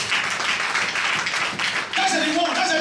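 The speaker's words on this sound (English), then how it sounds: "Clap for Jesus." A church congregation claps during a sermon, a loud wash of overlapping claps that briefly dips and swells again, with voices mixed in near the end.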